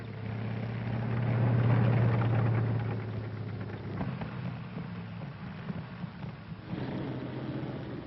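Universal Engineered Tractor Crawler, a military battlefield vehicle, drives over rough terrain with a steady engine rumble and mechanical clatter at moderate distance, muffled and continuous.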